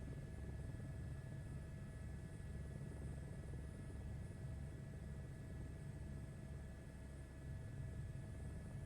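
A helicopter hover-taxiing in Microsoft Flight Simulator 2024 gives a steady, even rotor and engine drone with a low rumble and faint whine, continuous and fairly quiet throughout.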